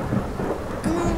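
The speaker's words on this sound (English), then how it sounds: "We will hide from the rain and the thunder?" Rain and thunder in a video game: a low rolling rumble over a steady hiss of rainfall, loud and close, with a sharper crackle near the end and no voices.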